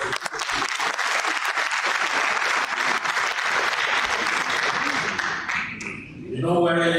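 Round of applause for a speaker at a Nigerian Armed Forces Resettlement Centre presentation, dense clapping from a crowd that holds for several seconds and then fades into a voice at the end.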